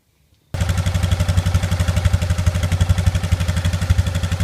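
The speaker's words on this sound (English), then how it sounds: "here's how the exhaust sounds" A 2001 Polaris Trailboss 325 ATV idles through a modified loud muffler, its exhaust starting abruptly and chugging in a steady, rapid, close, loud pulse with no talk.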